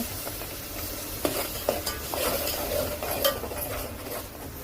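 Ground masala and ginger-garlic paste sizzle in hot oil in a pan for a homemade chicken rassa, a steady close hiss broken by a few clinks and scrapes of a stirring spoon, with no talking.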